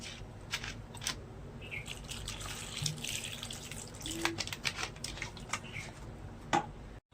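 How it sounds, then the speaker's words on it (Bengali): Two mangoes washed under a running tap give a faint, steady hiss of flowing water with scattered splashes and light knocks nearby, with no talk. "আম দুটোকে ভালো করে আমি ধুয়ে নেব"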